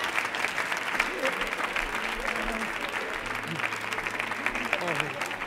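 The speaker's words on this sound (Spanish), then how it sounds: "¡Fuerte el aplauso para Jamón de Gavilán!" A studio audience at a Spanish comedy talk show applauds steadily, a dense, loud wash of clapping that runs for the whole stretch, with faint music or crowd noise underneath.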